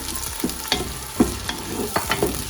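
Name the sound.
tomatoes added to frying mustard greens masala, sizzling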